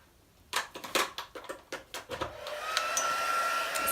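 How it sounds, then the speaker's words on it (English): Heat gun switching on after a series of sharp handling clicks and knocks, then settling into a steady, rising hiss of blowing air. "I'm just going to put on the heat gun, which will be a little bit noisy"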